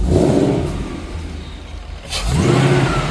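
Supercharged Coyote V8 in a late-model Mustang surging under boost, a loud near engine roar that wavers, dips briefly near the end, then swells back up, with no voices.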